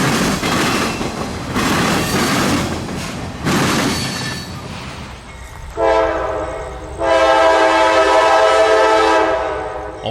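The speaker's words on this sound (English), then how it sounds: "453 is the CSX southbound regular freight from Waycross to Miami." A CSX southbound regular freight train from Waycross to Miami rumbles past loudly with wheel noise, then sounds its multi-chime horn in two long blasts, the second held for several seconds.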